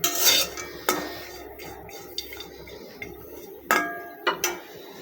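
Loitta shutki, a dry fish, stir-fried in a hot karai with garlic and onion for a spicy bhuna, with a metal spatula scraping and clanking against the pan in sharp, irregular knocks over a low sizzle.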